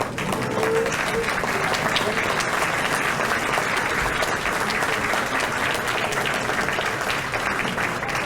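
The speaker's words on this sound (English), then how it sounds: "We can give you a round of applause." Sustained audience applause for veterans at a township officials convention, a dense, even roar of many hands clapping for over eight seconds, with faint crowd murmur beneath.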